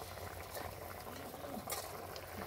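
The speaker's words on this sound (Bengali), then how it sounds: "এই ঝোলের মধ্যে ফুট চলে এসছে, তোমাদেরকে দেখাচ্ছি।" Fish curry broth bubbles at a steady rolling boil in a pot, a faint continuous burble that persists throughout without pause.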